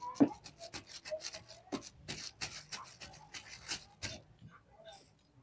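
Oiled Kombdi vada dough made from bhajani flour is patted flat by hand: faint, close, soft slapping pats that come in an irregular quick series and fade out near the end, with no voices.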